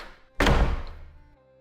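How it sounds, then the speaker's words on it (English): A single heavy door swings shut with a deep, close thud that rings out briefly and fades into a lingering echo, with no voices. "the heavy door closing behind her with a thud that echoed through the empty street"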